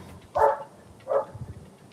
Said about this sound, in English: I'm hearing the dog real loud.